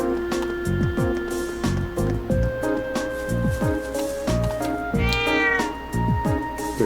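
A cat meows repeatedly in the video game The Legend of Heroes: Trails of Cold Steel, with clear, drawn-out cries over steady game music and sound effects.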